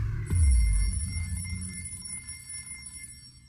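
A thump followed by a sustained electronic ringing tone that hangs steadily and slowly fades, with no one talking.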